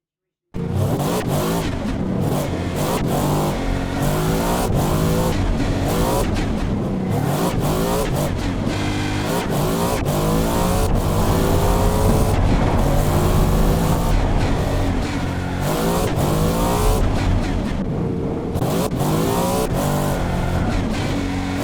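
A 1980s GT car lapping a test track in BeamNG: a loud engine revving and shifting continuously, with rising and falling pitch sweeps and occasional tire squeal, with a voice briefly audible at points.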